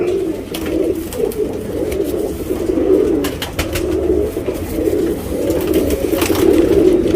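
A male racing pigeon kept for tournaments coos in low, throaty rolling bursts, close and fairly loud against a busy background of other birds and faint ambient noise, with no talking.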